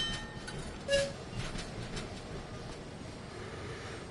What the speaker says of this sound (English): We'll just watch the train depart from the station